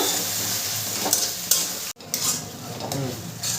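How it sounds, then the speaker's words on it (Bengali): Spice paste of ginger and tomato sizzles steadily in a hot pan for chana masala, with a spatula scraping and stirring through a continuous close frying hiss and one brief break in sound. "মশলাটাকে ভালো করে কষিয়ে নেব"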